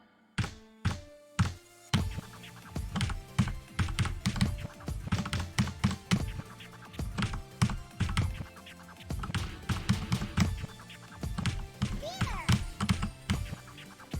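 Keys on a tactile computer keyboard are struck in quick irregular bursts of sharp clicks and thunks, close and distinct, with brief pauses between runs.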